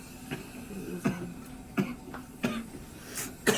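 Six short coughs spaced about a second apart, fairly faint and close, with quiet room tone between them.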